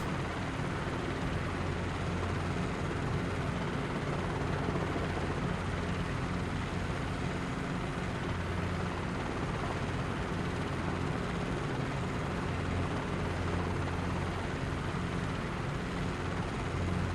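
A CH-47 Chinook helicopter in a flight simulator game gives a constant, loud rotor and turbine roar with a steady low hum, unbroken throughout and with no talking.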